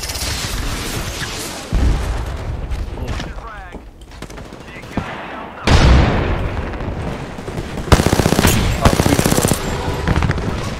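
Gunfire in a video game comes in loud bursts of rapid shots and booms, with quieter stretches in between, and a voice is heard briefly.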